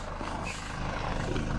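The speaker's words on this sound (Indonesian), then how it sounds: "Ini mobil lagi dipanasi" Car engine idling while warming up after sitting unused for a long time: a steady low rumble with a continuous mechanical hum, close and constant.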